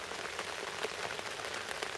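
Steady rain pattering on a surface outdoors at a lakeside fishing spot, a dense, even hiss with scattered drop impacts, continuous and fairly close, no voices.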